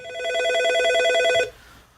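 A telephone rings with an incoming call to a live radio phone-in show in Manipur, India: a loud, steady electronic trill of rapid repeated tones lasting about a second and a half, then cutting off to quiet room hiss.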